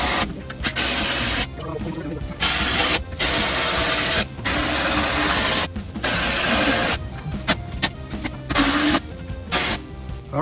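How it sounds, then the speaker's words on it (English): A hand ratchet tightens the spare tire carrier mount on a Jeep JLU. Loud, close bursts of rapid clicking alternate with short pauses, and there is no speech. "yeah, we'll use the ratchet"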